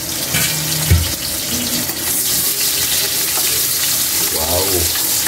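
Chopped onion dropped into hot oil for pork estofado, a broad, steady hiss of frying that fills the background, with a few brief clanks and scrapes of cookware over it, and a voice briefly heard.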